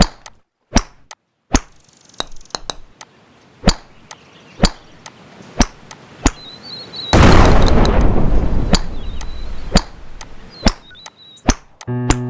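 Sharp, evenly spaced cannon blasts in the Golfing Over It video game, a dozen or so loud bangs with a sustained roaring burst in the middle, no voices.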